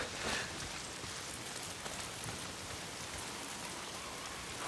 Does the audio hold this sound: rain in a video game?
yes